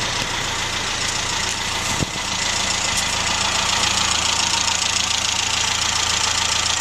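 A Rover Mini with an automatic gearbox idles steadily while warming up, a continuous close engine drone with a faint knocking pulse and one brief click partway through, no voices.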